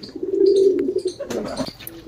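Large Kalsire pigeons coo nearby in a low, throaty warble, with a few higher chirps and rustling around them, in Lucknow.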